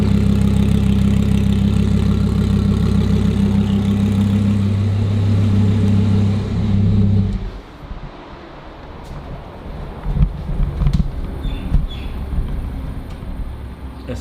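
An Audi R8 engine with an aftermarket ball-bearing turbo setup idles with a heavy, chugging, tractor-like pulse for several seconds, then cuts off, leaving quieter rattling and background noise.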